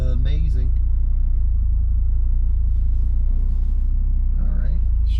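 An Audi TT RS driving, its engine a steady low rumble throughout with brief tonal swells at the start and near the end, and a voice talking over it.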